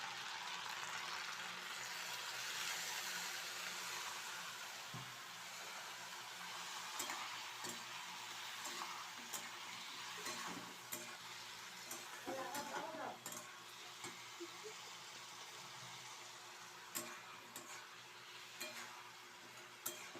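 A spiced mixture of red chilli powder, Kashmiri chilli, sugar, salt and a little water sautéing in a pan, with a faint steady sizzle and scattered soft scrapes and clicks of stirring, close and quiet.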